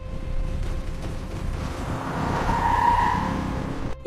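A car that will not brake skids along, its tires hissing and squealing under a loud, continuous road roar for about four seconds, with a short bump at the end.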